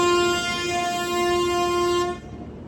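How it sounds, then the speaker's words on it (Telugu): The Veer Bhoomi Express, hauled by a WAP-7 electric locomotive, sounds a long, loud, sustained horn as it departs, the tone holding steady for about two seconds before cutting off, leaving low rumbling train noise. "అదిగో వీర్ భూమి ఎక్స్ప్రెస్ బయలుదేరిపోతుంది."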